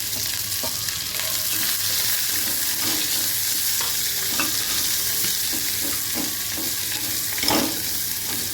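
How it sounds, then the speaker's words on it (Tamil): Onion, curry leaves and green chilli sauté in a pan, an even close sizzle carrying a scattering of light spoon taps and scrapes throughout, with one slightly louder knock near the end; nobody talks. "வெங்காயமும் கருவேப்பிலையும் சேர்த்துக்கலாம் பச்சை மிளகாய் இது கொஞ்சம் நல்லா வதங்கினதுக்கப்புறம்"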